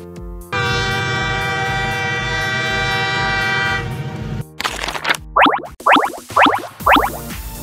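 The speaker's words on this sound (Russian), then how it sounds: "Это желтый контактно-аккумуляторный электровоз." A yellow contact-battery electric locomotive sounds a long, loud, steady horn tone that lasts several seconds. Short rhythmic clanking and squealing bursts from the train follow it.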